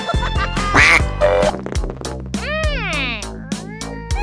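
Cartoon quacking of a small duck in an animated children's story, a run of short, fairly loud quacks in quick succession with sweeping cartoon effect tones, no talking.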